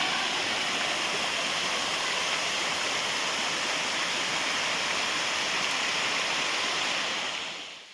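A loud, steady roar of Kona Waterfalls in Andhra Pradesh, broadband rushing water that continues unbroken and fades slightly at the end, with no voices.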